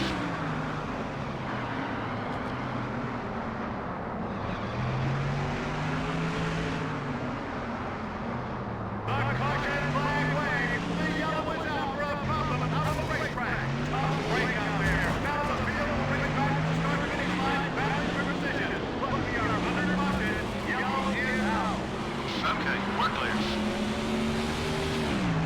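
Stock car engines in NASCAR Thunder 04 drone loudly and continuously, with pitch rising and dipping as cars shift and jostle in a pack, while a spotter's radio voice talks over the roar.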